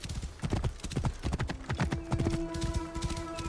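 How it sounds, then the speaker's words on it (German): Horse hooves clip-clop in a steady, busy rhythm while riding a legendary chariot-racing mount in the video game Assassin's Creed Origins, with a brief whinny and a sustained game tone near the end. "kommt auch mein legendäres Reittier, was ich durch Wagenrennen gewonnen hatte"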